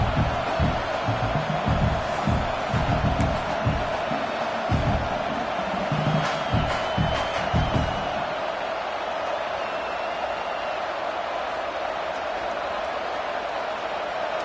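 Stadium crowd roars through a football field goal attempt from 34 yards, a loud, steady wash of many voices with a denser burst of low rumbling cheers early before settling into sustained background din.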